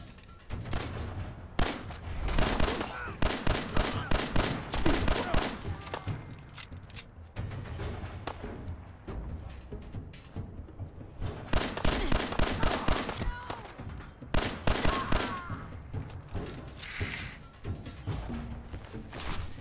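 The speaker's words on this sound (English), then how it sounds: "Looks like two of them are using shotguns." Shotguns firing in an online shooter game, rapid loud blasts in dense volleys with brief pauses between bursts, with a voice talking over the gunfire.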